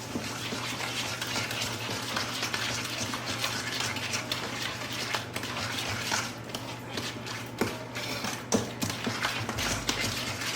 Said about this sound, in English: So now I'll mix these eggs in with the sugar and the butter.